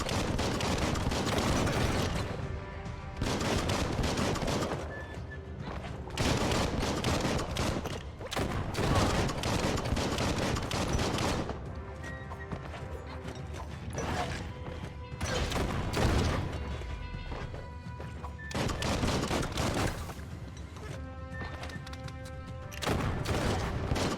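Repeated gunfire and explosive crashes in the action video game Biomutant, with dense bursts of shots and impacts over a game soundtrack, broken by short lulls before the shooting resumes.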